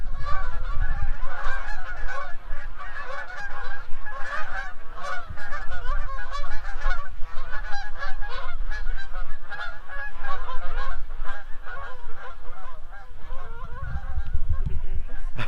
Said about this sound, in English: We've never been disturbed by geese before like that.